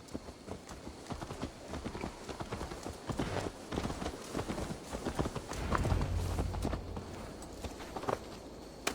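A horse's hooves clip-clop at a steady walking rhythm in the Assassin's Creed Valhalla video game, close and continuous, with a faint voice briefly heard under them.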